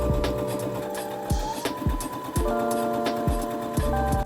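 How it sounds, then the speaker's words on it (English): A sewing machine stitches a dart in dress fabric: a close, steady motor whir with rhythmic mechanical ticking, stopping and restarting in short runs. "I simply sew my triangle down like so"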